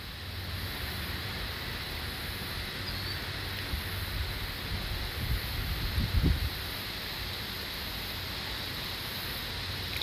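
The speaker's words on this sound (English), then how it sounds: "It's a windy day today." Strong wind blows steadily on a windy day, a constant rushing roar with low microphone buffeting that swells briefly midway, heard without voices.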